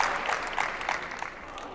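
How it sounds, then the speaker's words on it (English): A large crowd applauds at a badminton match in the Palais des Sports in Orléans, France, backing the home players. Steady, moderately loud clapping rolls on briefly. "as you can hear, pretty large crowd here to support the French players"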